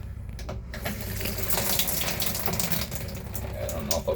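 Water sprays steadily from a shower sprayer in a small 2019 Micro Lite RV bathroom, a continuous close hiss with slight splashing fluctuations throughout.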